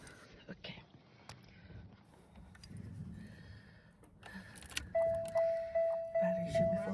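A 1997 Buick LeSabre that sat for months cranks over repeatedly in a rhythmic series of pulses before catching, heard close up, with quiet talk and small handling noises beforehand.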